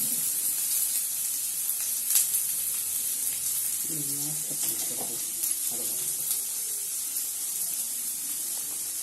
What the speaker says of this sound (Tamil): இந்த பூண்டும் வெங்காயத்தையும் நல்லா வதக்கணும்.